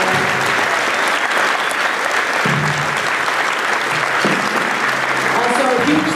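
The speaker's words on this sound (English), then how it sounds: "can we have a round of applause for my high school board for coming to help me?" An audience at a school spring concert claps loudly and continuously for the high school helpers, with a few voices breaking through the steady wash of applause.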